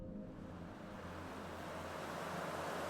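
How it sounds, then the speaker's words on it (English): Sampled ocean waves with seagulls from a software sampler swell into a steady broadband wash, rising slightly in loudness, with a low synthetic hum underneath and no voices. "you get an ocean with seagulls"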